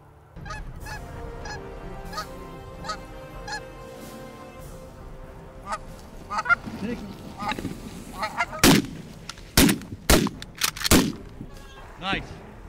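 A flock of Canada geese honks repeatedly during a goose hunt. The nasal calls come from varying distances, and loud, sharp shotgun blasts ring out in quick succession near the end.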